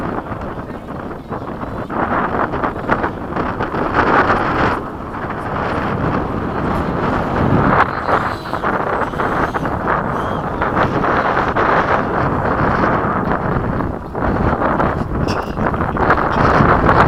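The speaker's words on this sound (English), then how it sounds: "Windy." Steady, loud wind buffets the microphone at an RC jet flying field, a continuous broadband roar with slight surges and dips and no voices.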